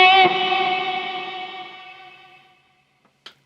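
A single guitar chord is strummed through a Harley Benton HB-15GXD JamBox amp with reverb turned up, ringing bright and slowly decaying into a washy tail before fading to near silence, followed by a small click.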